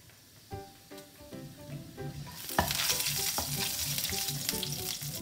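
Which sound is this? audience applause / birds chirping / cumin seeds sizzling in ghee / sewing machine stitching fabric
cumin seeds sizzling in ghee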